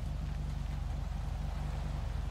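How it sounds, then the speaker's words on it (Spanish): Motorcycle engine idling in GTA V during a police roleplay stop, a steady low rumble with a regular pulsing beat, continuous and fairly close for the whole stretch. "¡Apague la moto!"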